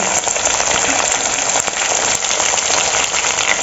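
Chillies sizzle in hot oil with mustard seeds and cumin, a loud, dense, continuous frying crackle close by, without pause.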